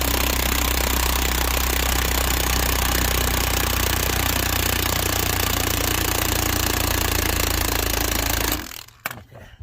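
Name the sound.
impact wrench with 3/4 inch socket raising the car jack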